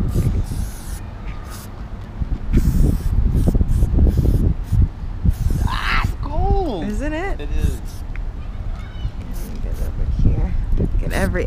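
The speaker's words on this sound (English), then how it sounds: "You're not supposed to spray it directly on your face." Aerosol sunscreen sprays in short hissing bursts during a beach vacation in Ocean City, Maryland, close and intermittent amid voices talking and other background noise.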